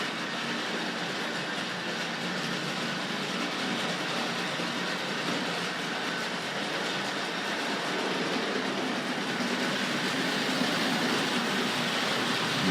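A Tri-ang or Hornby Dublo model train rattles steadily along its track with a soft, continuous clatter and whir, fairly quiet and without any voices.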